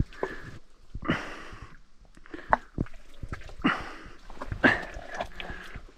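A weak, rescued dog sniffs in several short, close, quiet bursts with small pauses between them, with no talking.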